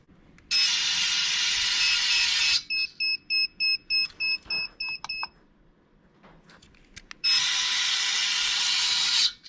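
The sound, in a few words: electric license plate cover beeping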